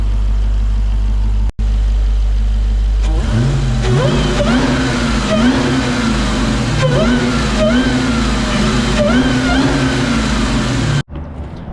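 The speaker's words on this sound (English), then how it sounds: "I'm gonna give you another rev real quick." Supercharged 2020 Dodge Challenger Daytona Hellcat engine revving, loud and close, with a steady idle rumble broken by several rising and falling revs and supercharger whine.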